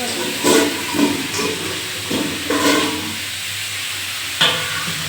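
A spoon stirs egg curry in a pan, with a few soft scraping strokes close by over a steady sizzling hiss.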